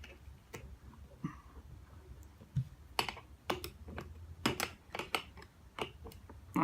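A socket wrench ratchets while tightening a homemade fishing rod holder, giving a quick run of sharp, irregular clicks and ticks. The clicks are close, with quieter gaps between bursts and no speech.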